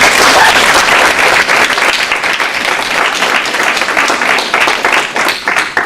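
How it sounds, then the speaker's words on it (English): Audience applause at a reception, a loud, dense burst of hand clapping from a crowd, sustained for several seconds with only slight fading. "please, a huge round of applause for the mentors for giving their time."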